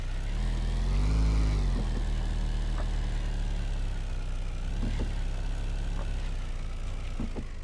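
A car engine idles in the Car Dealer Simulator video game, a steady low hum with a slight rise in revs early on, then an even drone throughout.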